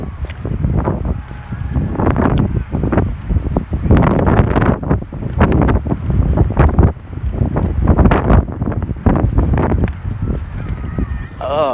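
Strong wind buffets the microphone outdoors in the Haight in heavy, rumbling gusts that roar and fade repeatedly, loud and close, with no clear talk.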